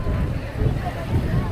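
Strong wind buffets the microphone on Galega beach, a loud low rumble that swells and gusts, with a voice talking faintly underneath.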